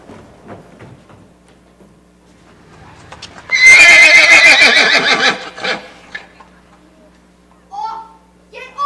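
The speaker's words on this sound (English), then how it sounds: "How's the horse, Stead?" A horse neighs and whinnies loudly in a radio drama, one long shaky call up close, with hoof clip-clop and a few brief voices around it and short cries afterward.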